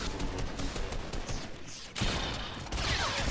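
Gunfire in the video game Squad, a dense, continuous fusillade of distant and mid-range shots layered with rumbling noise, steady throughout with a couple of louder surges.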